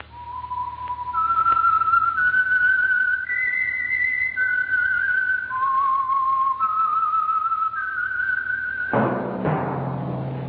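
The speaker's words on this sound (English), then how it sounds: "That whistle is your signal for the Signal Oil program, The Whistler." A man whistles a steady, wavering signature tune for The Whistler, the Signal Oil radio program, alone and close, stepping through sustained notes before a brief burst of other sound near the end.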